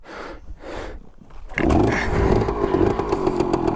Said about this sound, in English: Good old 2-stroke sound, and it runs an oil pump just like the H2